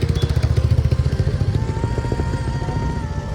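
Yamaha MT-15 motorcycle engine running close by, a loud, steady, throbbing idle with quick pulsing beats and a faint higher whine above it, heard on its own without talk.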